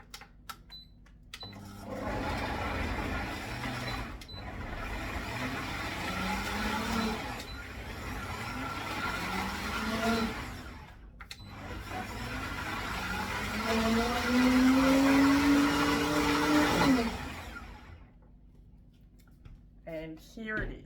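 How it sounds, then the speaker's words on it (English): A big, powerful blender whirs through a garlic smoothie in several long bursts, its motor pitch rising and falling as it labours, loud and close, with brief pauses between runs. "So I'm going to blend it up here on my big powerful blender."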